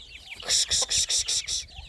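A chicken clucks in a short run of five or six quick, evenly spaced calls, close and fairly clear, among brooding hens in a yard.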